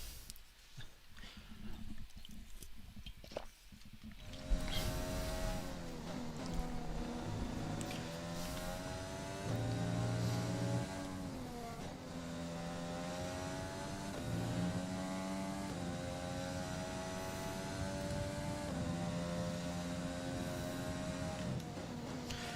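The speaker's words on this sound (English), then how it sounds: "Forget how good F1 cars sound." Formula 1 car engines in F1 2020 scream at high pitch, rising and falling through gear changes as the cars race, loud and sustained after a brief quieter opening.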